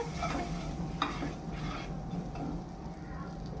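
A spoon scrapes and stirs a sizzling spice mixture in a pan for Peshawari chicken, close soft scraping strokes over a continuous low frying hiss, no voices.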